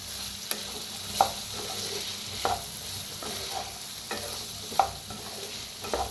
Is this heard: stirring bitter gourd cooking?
yes